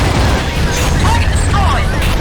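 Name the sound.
explosion from the AquaNox video game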